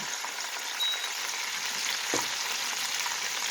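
Chicken deep frying in oil held near 300 degrees, a steady, close crackling sizzle that continues without a break.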